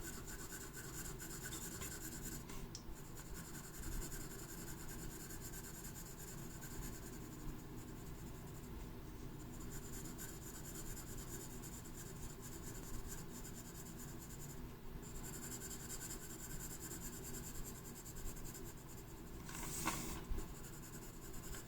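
Steady close scratchy rubbing of a drawing tool coloring in a drawing on paper, continuous and fairly quiet with slight rhythmic strokes and a brief louder rustle near the end.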